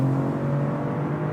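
A 2023 BMW M340i in Sport Plus accelerating hard, its engine holding a steady, strong drone with a rising whir, heard alone and fairly close.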